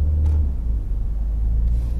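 Inside a Mercedes A180d diesel car in fourth gear, a loud steady low engine and road rumble fills the cabin with no talking.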